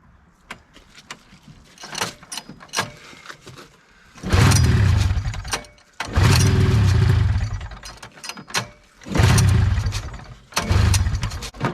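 A 1974-75 Arctic Cat Panther 440 snowmobile engine is cranked repeatedly with scattered clicks between attempts, then catches in several loud, rough bursts of a few seconds each before dying.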